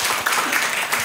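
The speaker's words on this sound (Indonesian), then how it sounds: "Kita beri aplaus dulu" An audience applauds at a meeting between the Vice President and leaders of indigenous Papuan business associations, a dense, steady wash of clapping that is loud and close throughout the brief moment.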